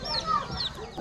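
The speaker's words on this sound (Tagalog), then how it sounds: "Dami manok." Chickens cluck in a few quick bursts close by in a crowded village yard in the Philippines, with faint background noise around them.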